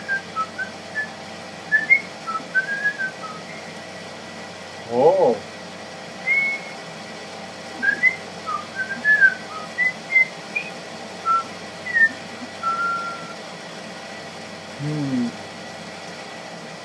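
A person whistles a series of short, bright melodic phrases with pauses between them, close and clear; a brief low vocal sound interrupts once.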